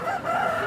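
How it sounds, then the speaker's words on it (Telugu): A rooster crows once, loud and close, among the large chickens for sale at the Timiram weekly market. "చాలా పెద్దగా ఉన్నాయన్నమాట కోళ్ళు."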